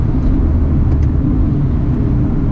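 A 2018 Mercedes-Benz CLA 45 AMG rolls along a highway and heads for the exit, giving a steady, loud low rumble of engine and road noise throughout with no voices.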